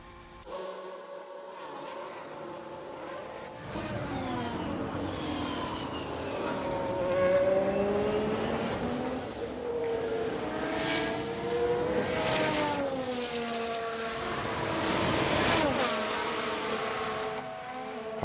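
Several Formula 1 cars race at sunset at Abu Dhabi in F1 Manager 22, their engines a layered whine of rising and falling pitch sweeps that pile up as cars pass, loud and continuous.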